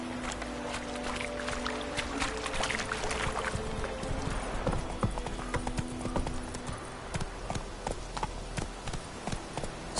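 Steady rhythmic clip-clop of horse hooves in The Witcher 3, near and continuous, the trotting beat carrying over a soft outdoor ambience with no talk.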